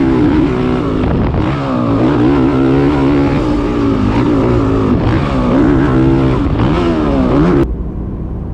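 Honda CRF450R Works Edition dirt bike running a race lap: loud onboard engine roar rising and falling steadily as the throttle opens and eases through turns, continuous before cutting off abruptly near the end.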